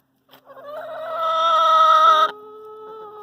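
Chickens at a coop cluck and call in a rising, drawn-out squawk that swells loudly, then drops to a softer sustained note, heard close with no talking.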